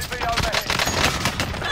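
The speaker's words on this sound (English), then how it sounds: "Receiving hostile fire." Sustained automatic gunfire in a tactical shooter game, a dense rattling burst of rapid shots close by that runs without pause for under two seconds.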